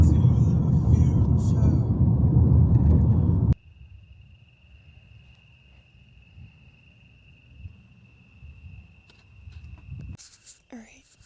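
After a burst of loud rustling, a thin, steady insect chirp rings on for several seconds over faint low rumble, like crickets in a quiet night.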